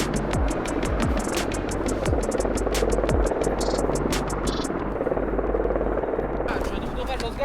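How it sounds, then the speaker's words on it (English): Rapid rotor chopping of military helicopters approaching a snowy clearing in Norway beats steadily and loudly, with a low engine hum beneath and brief radio chatter over it. "Helicopters are coming."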